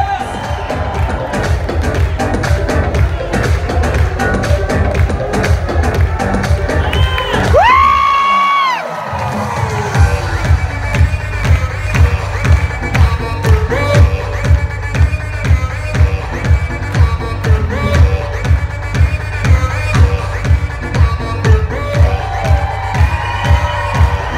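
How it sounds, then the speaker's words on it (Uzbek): A concert audience at a live comedy show claps in steady rhythmic applause with cheering throughout, loud and continuous, with a brief drop around a shouted announcement. "olqishlaymiz olqishlaymiz olqishlaymiz"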